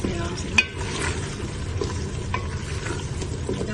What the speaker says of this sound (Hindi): ये देखिए लहसुन आराम से भून जाना है इसमें आराम से